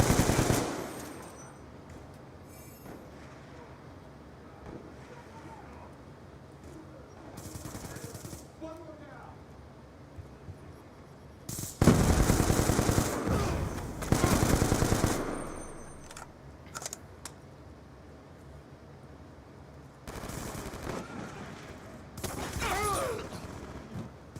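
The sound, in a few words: LMG machine gun fire in a Call of Duty video game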